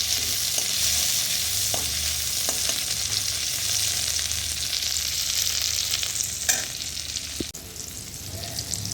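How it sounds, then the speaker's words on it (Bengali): Chopped tomato fries in a pan with a dense, constant sizzle, close and loud, with a few sharp clicks and scrapes of a utensil as it is stirred. "তারপরে দিয়ে দিলাম টমেটো কুচি টমেটো কুচিটা করে একটু ভেজে নেবো"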